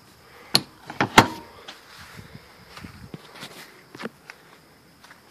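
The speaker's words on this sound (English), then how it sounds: "Big folding entry assist handle, folds right over the door." A folding entry assist handle on the door of a 2016 Northern Lite 10'2 EX CD SE truck camper clacks and clunks as it is moved, giving a few sharp metallic knocks followed by softer handling sounds.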